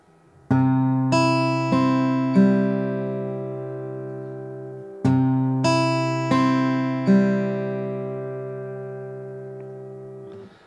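Plucked acoustic guitar notes step downward one after another in a slow fingerpicked arpeggio, ringing out and overlapping, played twice with a pause between.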